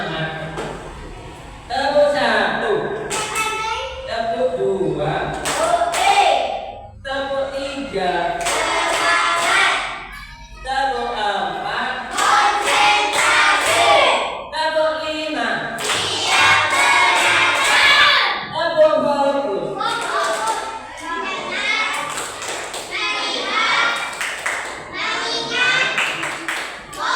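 Children clapping in rhythmic bursts during a classroom clap routine in an Indonesian primary school, with a teacher and kids chanting and shouting between the claps.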